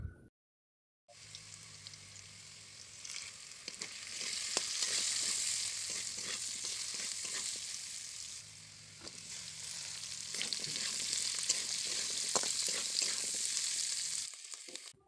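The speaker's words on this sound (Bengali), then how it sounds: "এবার কড়ার মধ্যে দেখো সাদা তেল দিয়ে কাঁঠাল আর বিচাটাকে ভালো করে ভেজে নেব।" Jackfruit seeds and potato fry in white oil in a wok, giving a steady, bright sizzle with crackling and occasional stirring scrapes, close and continuous after a brief silent start, dipping briefly midway.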